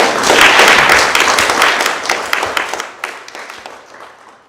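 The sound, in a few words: audience applause for guests in the room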